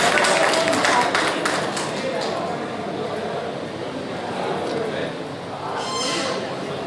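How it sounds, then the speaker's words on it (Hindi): An audience at a district teachers' conference in Udaipur claps to welcome a guest, a burst of crowd applause at the start that fades into a murmuring hall with speech. "ताली बजा के स्वागत करें इनका"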